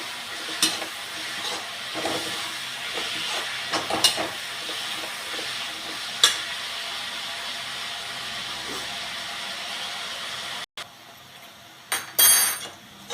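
Curry leaves and onions sizzle in a hot pan for chicken curry, a steady close hiss with scattered clinks of a spoon against the pan and a brief cut near the end, with no talk.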